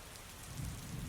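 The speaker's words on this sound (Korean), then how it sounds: "빗소리에 빠져들던 도중 멀리서 들려오는 천둥소리" Soft, steady rain patters over a low, rumbling swell that builds like far-off thunder; brief and fairly quiet.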